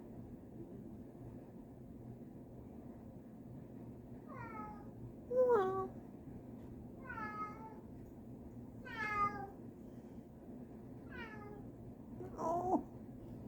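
A cat meows mournfully by a door, wanting to go outside: about five drawn-out meows spaced a second or two apart, fairly close, over a low steady background hum, with one brief spoken word.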